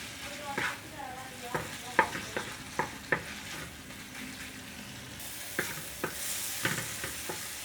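Chicken frying in a pan with tomato paste, a soft sizzle under repeated scraping stirs and clinks from a utensil against the pan, with the sizzle growing brighter toward the end.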